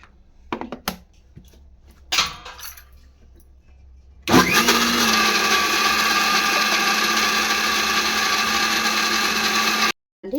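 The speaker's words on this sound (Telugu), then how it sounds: "ఇప్పుడైతే మనమైతే మిక్సీ పట్టేస్తాం" A kitchen mixer grinder churns fresh coconut and poha into batter, starting with a sudden loud whir after light clinks and running steady and humming, then cutting out briefly near the end.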